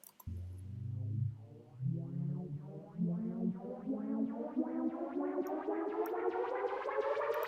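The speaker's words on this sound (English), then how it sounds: "I had a LFO on the pitch so that the pitch is a little bit warbly" A synth plays a rising sequence of notes with a warbling, wavering pitch from LFO pitch modulation, growing brighter and busier as it climbs, steady and fairly loud.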